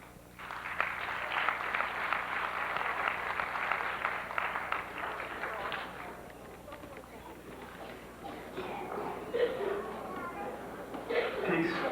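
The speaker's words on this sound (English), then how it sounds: "Please welcome with a round of warm applause, Michael Reese, a poet" Warm applause from an audience at a Black Solidarity Day tribute to Malcolm X at Medgar Evers College welcoming poet Michael Reese, a dense, moderately distant wash of clapping that thins out, with voices emerging near the end.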